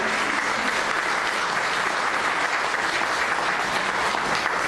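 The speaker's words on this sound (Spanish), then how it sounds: "De una ofrenda de palmas a Él." A church congregation applauds in sustained, even clapping that fills the whole stretch without pause, loud and close with no voices standing out.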